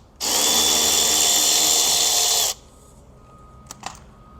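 A power driver whirs loudly and steadily for about two seconds, backing a T20 screw out of the rear passenger door trim on a 2007 Lincoln MKZ, then stops, followed by a couple of faint clicks.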